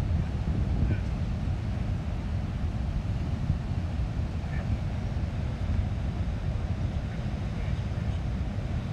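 Wind gusts buffet the microphone of a drone over a pier above crashing waves in Rodanthe, North Carolina, a constant low roar and rumble, loud and unbroken throughout.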